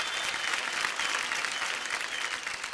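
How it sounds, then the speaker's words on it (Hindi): Steady, dense applause from a studio audience at a televised children's dance competition, a continuous wash of clapping at even loudness throughout with no break. "तालियां हो जाए अपुन के लिए।"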